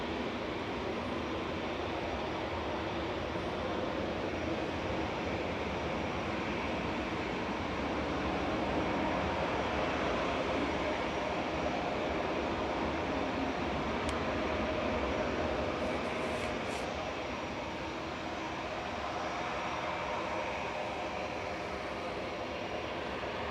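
TUI airplane at Manchester Airport, a steady, sustained engine roar at moderate distance that swells slightly toward the middle and then settles, with no voices.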